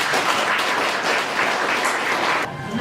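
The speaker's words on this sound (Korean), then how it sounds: "유익한 강의를 해주신 이현주 교수님께 다시 한번 큰 박수 부탁드립니다." Audience applause after a lecture at an eco-museum education session, a steady dense wash of clapping from a seated crowd lasting nearly three seconds, then thinning abruptly near the end.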